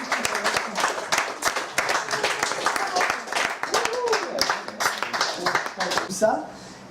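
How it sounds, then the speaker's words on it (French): Applause from an audience at a lively party gathering, steady dense clapping close by that runs several seconds before thinning out near the end, with voices mixed in. "Un tonnerre d'applaudissements."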